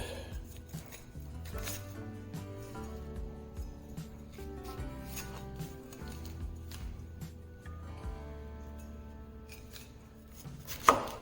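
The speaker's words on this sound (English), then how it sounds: "We're going to cut our bell peppers up." A knife chopping bell peppers into squares on a cutting board, a steady run of close, crisp cuts with a few scraping and clattering moments and a sharper knock at the end, no talking.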